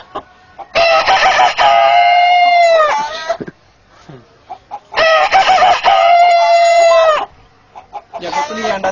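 A man imitates a rooster crowing: two long, loud cock-a-doodle-doo calls close up, each rising and then trailing off, with a short start of a third at the end.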